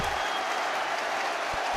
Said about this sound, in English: They can cheer the goal all over again.